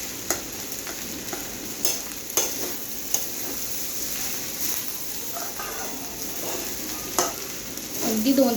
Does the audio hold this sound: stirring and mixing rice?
yes